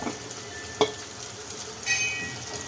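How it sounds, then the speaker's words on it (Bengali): Quiet sizzle of ground cumin, garam masala and Kashmiri chilli powder frying in oil, punctuated by a few sharp clinks and scrapes of stirring. "মশলাগুলো কষা হয়ে গেছে তেল ছেড়ে দিয়েছে"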